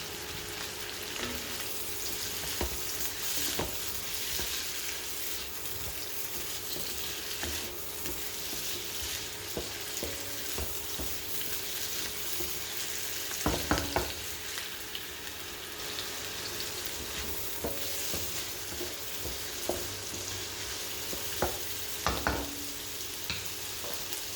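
Vegetables with shredded carrot sweat in a pan for vegetable lo mein, a soft continuous sizzle with occasional close clacks and scrapes of a utensil stirring, no one talking.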